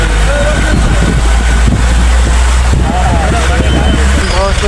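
Road traffic jam in Nagar: a dense, steady rumble of engines and wind buffeting, with a few short horn toots rising over it and voices talking throughout.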